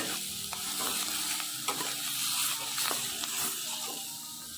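Chili powder, bay leaf and other spices fry in oil in a pan over low heat for a potato, tomato and tengra fish curry. A close, continuous sizzle and hiss is broken by scraping stirs, with no talking.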